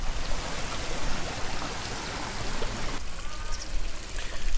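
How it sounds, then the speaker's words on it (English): Water streaming out of a castle wall in Peniscola, Spain, a steady close rushing flow that thins slightly toward the end, with no voices. "I wonder why the water's coming out of the castle, though."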